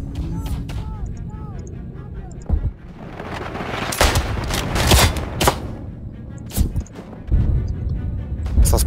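Gunfire in the First World War shooter Isonzo, with rapid rifle and machine gun shots and heavy booms, loud and close at times, while players talk over the battle.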